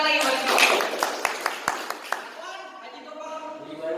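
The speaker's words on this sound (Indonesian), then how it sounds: "Ayo, tepuk tangan lagi buat Ifro." Classroom applause for a student breaks out over a teacher's voice, a brief burst of scattered clapping that fades after a couple of seconds while talk continues.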